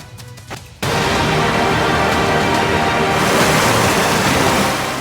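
Floodwater roars through swollen, once-dry rivers in Tonk, Rajasthan, a loud continuous rushing wash that bursts in abruptly after a brief quieter moment and stays steady throughout.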